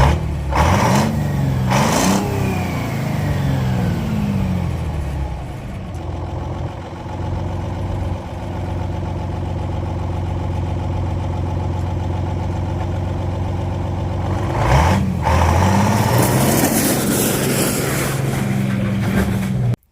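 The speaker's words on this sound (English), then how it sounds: "So the truck runs and drives." Detroit Diesel 671 engine in a rat rod truck, running and driving with a loud, steady low diesel drone, revving at the start and again near the end, close throughout.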